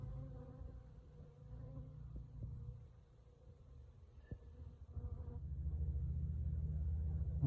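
Honeybees buzz around a hive entrance in a low, droning hum. The buzz is faint at first and then swells closer and louder toward the end.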